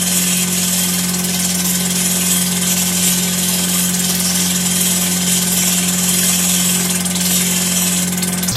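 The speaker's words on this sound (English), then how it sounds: "We'll go ahead and get the finer polish on the stone." A lapidary machine polishes a turquoise stone, producing a constant motor hum with a steady grinding hiss layered on top, even and unbroken throughout.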